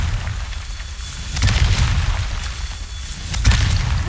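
Confringo fire-spell explosions burst in Hogwarts Legacy, two loud booms about two seconds apart over a constant low rumble of game ambience.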